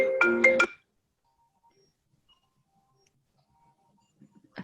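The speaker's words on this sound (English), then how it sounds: "A phone call came in and it's ruined everything." A phone ringtone from an incoming call plays as a short burst of bright melodic tones at the start, then cuts off into near silence before a brief faint sound at the end.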